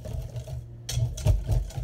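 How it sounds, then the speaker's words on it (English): Boxed pancake mix whisked with water in a bowl, a quick rattling, scraping beat of strokes close by with short pauses between bursts. "And we'll whisk those together."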